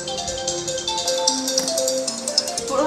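A mobile phone ringtone for an incoming call plays a loud, close melodic tune of sustained electronic tones, heard alone without talk.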